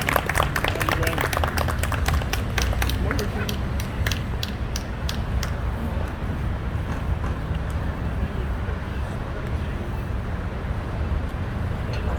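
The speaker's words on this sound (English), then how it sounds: "I want to give a round of applause for President Hoover." Outdoor crowd applauding at a Juneteenth flag raising ceremony, a burst of sharp claps in the first few seconds that thins into scattered clapping and murmuring voices over steady low background rumble.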